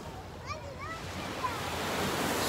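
Sea surf washes onto a beach in Cannes on the Côte d'Azur as a soft, continuous rush that swells toward the end, with wind and faint distant voices.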